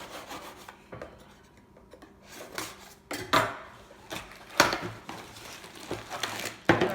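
A knife scrapes and slits packaging inside a Phantom 3 Advanced drone box, giving a series of irregular rasping strokes and rubs, some sharper scrapes and crinkles, fairly close and without talk.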